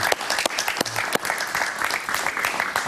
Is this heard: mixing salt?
no